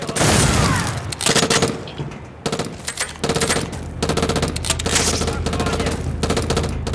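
Rapid automatic gunfire from the video game Black on its Vratska Dockyard level, loud and sustained with dense bursts and short gaps, filling the scene with close fire.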